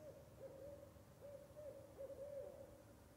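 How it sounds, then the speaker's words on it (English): An owl hoots at night along a hiking trail, a short series of low, soft calls repeating at uneven intervals, moderately distant over a quiet background. "got some owl action. That's nice."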